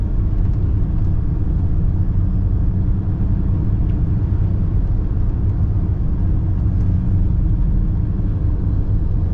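Steady, loud low-pitched road roar from 40-inch tires on a Jeep Gladiator 392 V8 pickup, heard from inside the cab as a continuous drone with no talking.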